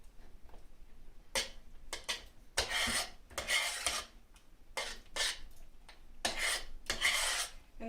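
A utensil scrapes and stirs creamy garlic pasta with black pepper in a pan, giving irregular bursts of rasping, wet scraping strokes separated by short pauses, close and clear.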